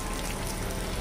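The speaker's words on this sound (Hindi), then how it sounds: "यहाँ पर बारिश आ रही है" Rain falls steadily at the Mahabaleshwar bus stand, a dense, even hiss of drops hitting surfaces close by, continuous and without talk.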